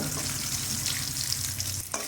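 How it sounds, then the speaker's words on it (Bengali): Bay leaves, dried red chillies and whole spices fry in hot oil with a dense, continuous sizzle, stirred in the pan without pause until a brief break near the end; no voices. "যতক্ষণ না ফোড়নটা ভাজা ভাজা হচ্ছে ততক্ষণ আমি নাড়ব।"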